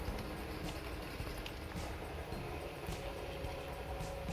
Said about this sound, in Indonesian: cek putaran dari relnya.